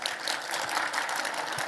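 A church congregation at a healing service gives a brief burst of applause, fairly faint and steady clapping from a crowd.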